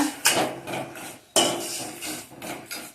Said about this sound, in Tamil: இப்போ கலக்கி விட்டுக்கிடுவோம்.